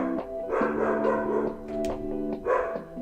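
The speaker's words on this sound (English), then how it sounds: "That is Toffee barking like crazy, if you can hear her" A dog barks in rapid, excited bursts through the clip, fairly close and loud, with whiny tonal yips between the barks in a domestic setting.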